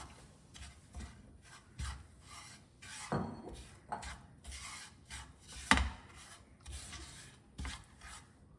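Fish being mixed by hand with salt and coconut oil, giving soft, irregular rasping and squelching rubs with occasional sharper taps against the bowl, fairly quiet and close.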